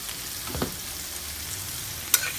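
Onions frying on high heat in a pan for a Bengali chicken curry, giving a steady broadband sizzle with two brief stirring scrapes, one early and one sharper near the end.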